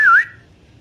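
A person whistles through the mouth, a single short bright note that dips and rises in pitch, close and loud, then fades into quiet.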